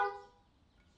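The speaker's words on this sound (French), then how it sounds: "Et il klaxonne" A car horn gives a single short honk in a French drama scene. The note is bright and up close, then quickly fades to a quiet background.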